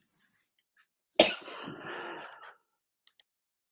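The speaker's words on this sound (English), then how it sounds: "sorry, I've got a cough." A single harsh cough from a presenter during a live webinar, a sharp burst followed by a rough, drawn-out exhale, then two tiny clicks; close and fairly quiet, with no talking.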